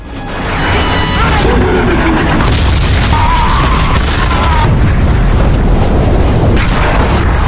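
A bomb explosion in a war film: a loud, sustained explosive rumble fills the whole stretch, dense and booming with crashing debris and a roar that stays heavy throughout.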